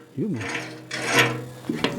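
A new wood-burning stove's metal door creaks on its hinges and clanks as it is opened and shut, a squeaky scrape followed by latch rattles and knocks, with a person talking over it.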